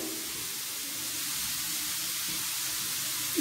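Radish frying in about three spoons of cooking oil in a heated pan, a steady close hiss and sizzle throughout with a small clatter at the end.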